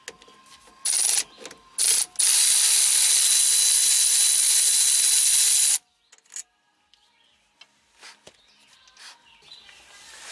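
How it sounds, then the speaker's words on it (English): A ratchet wrench loosening the caliper bolts on a car brake during a wheel stud repair, several close rapid clicking bursts followed by one long continuous ratcheting run, then quieter handling clinks. "next you want to remove the upper and lower bolts for the caliper"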